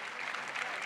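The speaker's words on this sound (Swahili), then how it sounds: "Wow, makofi tafadhali." A short, faint burst of clapping from students at a career fair in Murang'a, Kenya. It is a soft, brief patter heard from some distance.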